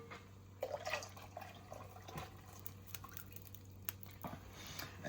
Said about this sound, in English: Pour the rest of this in here.